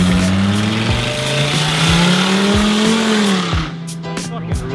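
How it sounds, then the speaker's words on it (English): A car on a San Diego street revs hard, its engine note climbing and holding as it accelerates nearby, then fading abruptly as the car pulls away. A voice briefly talks underneath. "as you can hear from that car back here"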